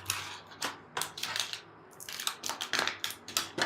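Crinkly crunches and clicks from a USB 7.1-channel sound adapter's packaging being opened by hand, quiet and close, in quick irregular bursts with no voices.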